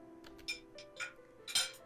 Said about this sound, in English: Only the clinking of silverware could be heard as a hush fills the room